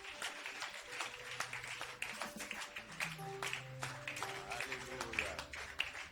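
A church congregation applauding during a service: steady, fairly faint clapping from many hands that runs throughout, with a few sustained tones underneath.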